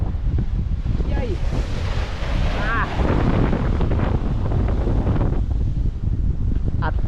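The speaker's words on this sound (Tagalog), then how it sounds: "Atras ang bangka sa laki ng alon." A small boat pitching through big waves in strong wind at sea about 50 nautical miles off Mindoro in the West Philippine Sea, with constant loud wind buffeting and surf roar and brief voices in the background.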